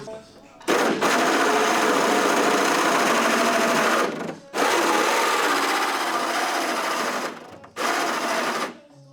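A Milwaukee M18 cordless power tool cuts through fiberglass on a Mexico Racing League Mustang, giving three loud, sustained buzzing runs split by brief pauses, with voices in the background.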